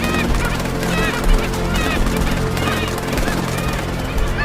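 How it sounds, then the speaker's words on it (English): Dense, loud calls of a toco toucan, a large colorful bird of South American forests and savannas, repeating continuously among a busy chorus of other rainforest birds with no pauses. "The toko toucan is a large, colorful bird found in South American forests and savannas."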